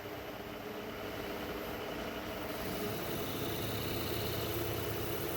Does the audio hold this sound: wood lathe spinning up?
yes